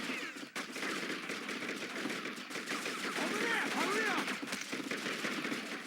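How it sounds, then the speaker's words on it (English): Gunfire in the True Crime: New York City video game on GameCube, with rapid shots fired through a wall, sounds as dense continuous rattling bursts over ambient game noise. "okay, now they're shooting through the wall"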